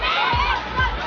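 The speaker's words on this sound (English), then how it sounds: "Crowd cheering for Goa." A large crowd cheers loudly and continuously at a Goa versus Haryana final match, a dense wall of shouting and whooping voices with no clear pauses.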